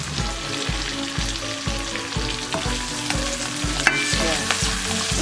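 Garlic browns in a hot pan for chop suey, a loud, close, crackling sizzle with a regular rhythmic stirring scrape about every half second and a brief metallic clink near the middle.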